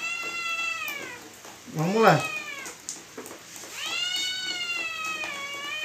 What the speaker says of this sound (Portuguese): Vocês estão ouvindo o barulho de uma gata aí, pessoal?